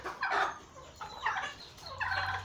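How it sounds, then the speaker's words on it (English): Farm poultry, ducklings among them, make three short bursts of clucking and cheeping, fairly faint and close, separated by brief pauses. "You can see the ducklings are doing quite well."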